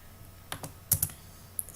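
Several clicks and taps on a computer keyboard while coding a C program, in short irregular bursts, close and fairly crisp, with quiet pauses between keystrokes.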